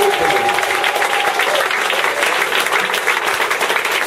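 A church congregation at a New Year thanksgiving service applauds, steady dense clapping throughout with faint voices mixed in.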